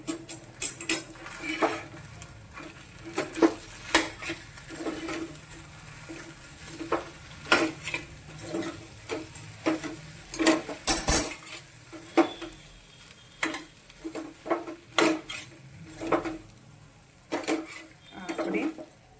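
Muthiya dough with powdered sugar and coriander is stirred and mixed in a metal bowl, with repeated scraping and clinking of a spoon in an irregular rhythm, fairly close and moderately quiet.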